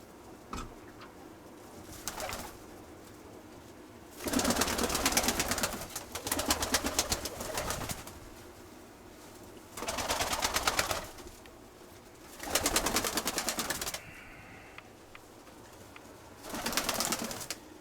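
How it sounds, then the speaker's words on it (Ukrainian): Pigeons cooing close by in a loft, repeated bursts of several seconds each coming at irregular intervals, with quiet pauses in between and no talking. "Тоже голубка летить."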